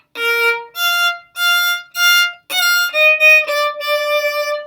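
A solo violin plays a short melody close up, a few clear separate notes followed by a smoother connected phrase.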